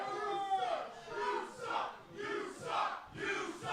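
A wrestling show crowd roars and chants in rising and falling waves, a dense mass of voices that is loud and continuous throughout.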